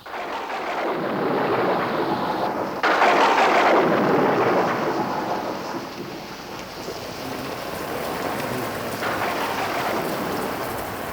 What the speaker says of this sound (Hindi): इतनी ज्यादा बारिश है आज तो।